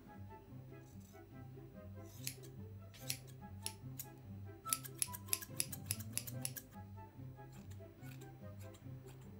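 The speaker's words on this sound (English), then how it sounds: "It's very nice to cut some hair without having to worry about how long it's gonna take for it to grow back." Scissors snipping through hair during a self-cut wolfcut, a run of quick crisp close snips in uneven bursts over a faint background hum.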